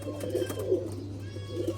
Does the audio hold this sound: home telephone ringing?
no